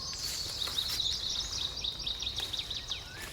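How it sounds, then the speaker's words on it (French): Songbirds chirp and trill in a dim, damp beech and yew forest with holly, a steady chorus of repeated high twittering calls layered at moderate distance over quiet woodland ambience. "On entend les oiseaux"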